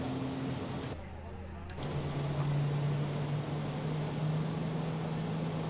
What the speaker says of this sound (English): Start engine number 2, you can hear it.